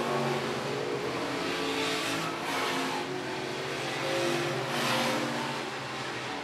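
An IMCA stock car engine drones steadily through a race at I-76 Speedway, a continuous loud mid-range roar with gentle swells as the car laps, no talk over it.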